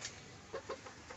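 Chickens in a small yard giving a few soft, faint clucks over low background noise in a brief moment.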